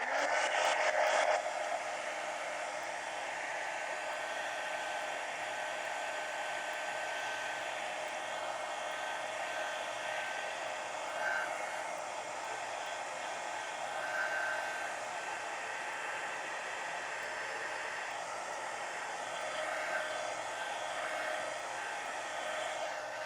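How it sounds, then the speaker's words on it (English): A hair dryer blows steadily and close up, drying paint on a steampunk collage mini book. It starts with a brief louder burst, then holds a constant, even airy whoosh for the full span, alone with no talk. "let me dry this"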